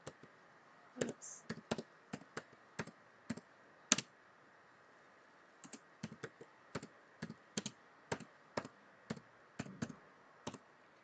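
Text is typed on a computer keyboard in quick bursts of close, crisp key clicks, with a short pause partway through and a quiet room behind it.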